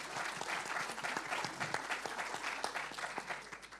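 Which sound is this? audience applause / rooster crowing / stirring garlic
audience applause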